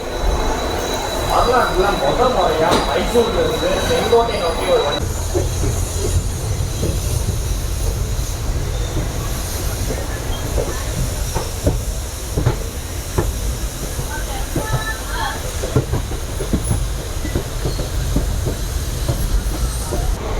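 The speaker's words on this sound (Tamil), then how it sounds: "மைசூர் செங்கோட்டை ஸ்பெஷல் எக்ஸ்பிரஸ் தன்னோட முதல் பயணத்தை தொடங்கியாச்சு" An express passenger train, the Mysore–Sengottai Special Express, rumbles steadily with hissing and metallic rattles as it departs Mysore, a continuous loud roar with a brief high whistle-like tone early on.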